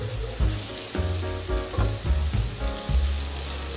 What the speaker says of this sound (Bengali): ভালো করে ভেন্ডিগুলি ভেজে নেব